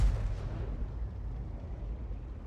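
An artillery shell explodes against a tank in World of Tanks, a heavy low boom at the very start that fades into a deep rumbling tail, alone without talking.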